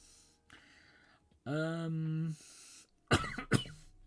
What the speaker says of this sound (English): Why when I get coughs out of nowhere?